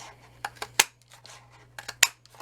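Scissors cutting four flower shapes out of So Saffron cardstock paper, heard as a handful of close, crisp snips in an irregular rhythm over a low steady hum.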